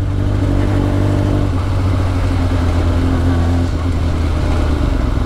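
A Kawasaki motorcycle engine runs loud and close with a steady, rough exhaust drone, holding a constant rumble throughout.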